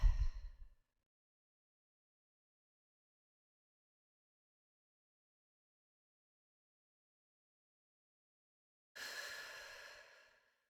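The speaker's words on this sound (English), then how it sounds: "take deep breaths" Deep breathing during a guided relaxation exercise: one breath ends at the start, then a long silence, then another slow, close breath near the end, with no talking.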